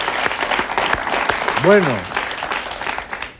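A television studio audience at a talk show applauds, sustained clapping throughout, with someone speaking briefly and a voice rising and falling in pitch in the middle.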